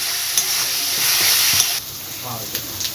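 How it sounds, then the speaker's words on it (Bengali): Chili, ginger and garlic paste frying in hot oil, a dense bright sizzle and hiss that eases slightly partway through, with light spatula taps, close and uninterrupted by speech. "সেই গন্ধটা যতক্ষণ না যাবে ভালোভাবে এটা ভেজে নিতে হবে তেলে"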